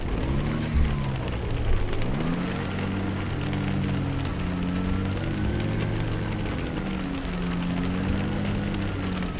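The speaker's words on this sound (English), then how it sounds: "just covered with spots of rain at the moment." Steady patter of rain streaks across the windscreen of a Diamond DA62 twin-engine light aircraft in X-Plane 11 while taxiing, a dense hiss layered over the droning hum of idling engines, constant and fairly loud.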